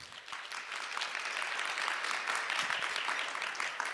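A conference audience applauds to welcome a speaker, a broad even wash of many hands clapping that swells slightly and holds steady, moderately distant and fairly soft.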